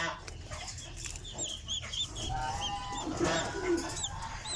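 A mother hen and her newly hatched chicks make a busy chorus of high, rapid peeps with lower clucks mixed in, all close by.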